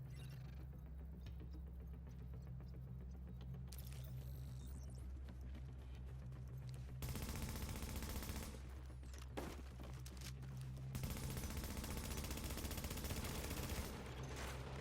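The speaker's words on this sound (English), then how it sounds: "Hostiles are firing on a fortification at Alpha." Hostile gunfire in an arena PvP match of the video game The Division as enemies fire on a fortification, a steady layer of shots and bursts that swells louder in stretches over a low background rumble.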